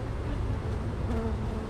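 A honey bee swarm buzzes in a dense, steady drone, close and continuous, with no talking.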